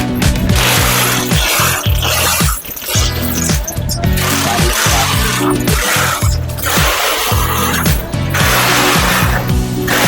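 A ratchet wrench tightens bolts on the mounting bracket of a Dyness solar battery during a hybrid solar installation, giving quick repeated metallic clicks in steady bursts, close and loud.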